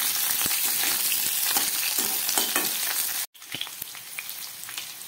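Potatoes and eggplant fry in hot oil in a pan for a Bengali fish recipe, a loud steady sizzle with stirring scrapes that briefly cuts out and then resumes more softly.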